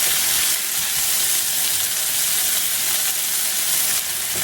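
Breakfast potatoes with green peppers and onions sizzle steadily in a pan, a loud, dense, continuous frying hiss close up with no talking.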